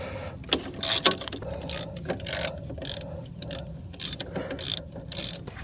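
A hand ratchet working loose the thermostat housing bolt on a Chrysler 2.4L engine, a close run of quick clicking bursts with short pauses between strokes, plus light metallic handling sounds.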